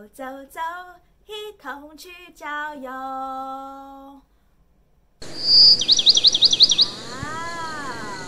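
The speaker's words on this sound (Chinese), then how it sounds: "原来是树上的小鸟在叽叽喳喳的唱歌呢" Small birds chirp in a tree in a forest: a burst of quick, bright, repeated tweets rises fairly loud after a stretch of sung children's-song verse, with softer trilling calls continuing underneath.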